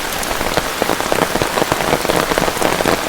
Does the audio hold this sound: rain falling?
yes